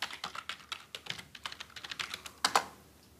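Rapid typing on a computer keyboard as login credentials are entered, a steady run of close, crisp key clicks with a couple of louder strokes near the end, no voices.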